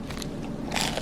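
A loud, close crunchy bite into toasted bread spread with butter from a butter candle, tasting like garlic bread, with crackling crumbly texture building to a sharp crunch near the end.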